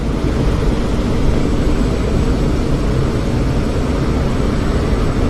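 A Boeing 747 departs London Heathrow, a steady, loud, broad jet roar that holds without a break, with no voices.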